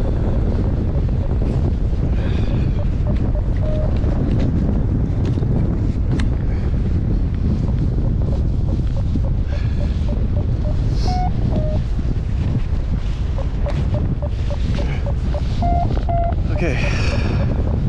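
Strong wind buffets a microphone during flight in winds of about 14, creating a constant loud broadband rumble and roar. A voice speaks briefly over the noise, and faint instrument beeps come through now and then.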